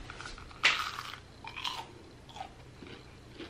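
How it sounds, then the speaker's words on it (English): Someone bites into crispy fried nuggets, giving one sharp crunch followed by several softer chewing crunches, close to the mic with no talking. "You hear that crunch?"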